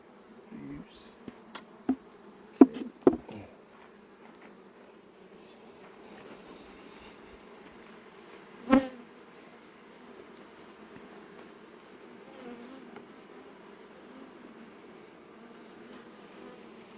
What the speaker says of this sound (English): These bees.